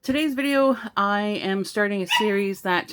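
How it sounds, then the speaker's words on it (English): A small, happy pet dog yips and whines at home in short, rising, high-pitched bursts through most of the stretch, close and fairly loud, mixed with someone talking. "sorry if you hear yipping in the background, that's my doggie"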